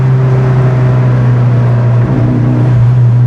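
Turbocharged car engine breathing through a chambered muffler, a loud, steady low droning exhaust note held close and constant, with only a slight wavering as the revs hold.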